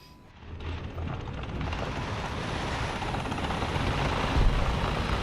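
An Mi-28 attack helicopter in War Thunder, its rotor and engine drone swelling in within the first half second and then holding as a steady, dense, loud whir.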